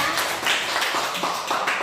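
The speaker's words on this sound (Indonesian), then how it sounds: "kita kasih tepuk tangan untuk kelompok 2" A classroom audience gives group 2 a round of applause: steady, fairly loud clapping from several people, brief and continuous with no talk over it.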